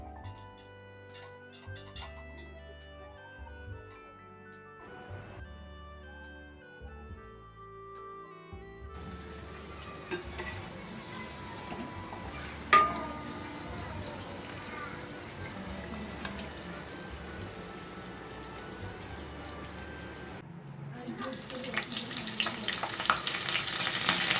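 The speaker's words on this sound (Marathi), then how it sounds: "कचोऱ्या आपल्या दोन्ही बाजूनी डार्क गोल्डन रंगावर तळून झालेल्या आहेत" Shegaon kachori deep-frying in hot oil until dark golden on both sides; a soft, tonal musical passage opens, then a faint bubbling fry fills the rest and grows louder toward the end.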